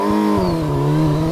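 A Kawasaki Versys 1000 S motorcycle engine revs steadily high and close, a continuous buzzing drone with a slight falling then rising pitch, no voices.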